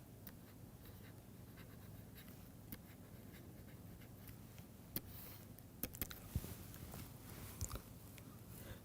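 Pen scratching on paper as a mathematical theorem is written out by hand, faint and continuous over a humming room tone, with scattered small taps and clicks growing slightly busier later.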